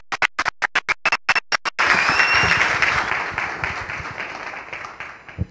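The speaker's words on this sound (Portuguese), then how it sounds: "uma salva de palmas aí" Audience at a Laravel talk clapping: a few separate loud claps at first, then a swell of full applause that slowly fades over a few seconds.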